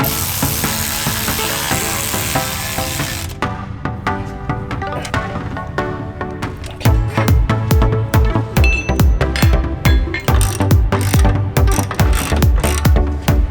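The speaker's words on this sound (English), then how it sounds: "Using a 15mm socket, we're going to go ahead and tighten these down now." A ratchet with a 15mm socket tightens bumper bolts on a Jeep JL Wrangler, close and loud: rapid clicking runs in repeated bursts, faster and more densely packed in the second half.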